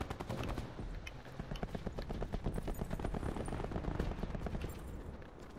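Rapid bursts of automatic gunfire from the video game Call of Duty: Black Ops 4, a dense, steady rattle of repeated shots running through the whole stretch with no break.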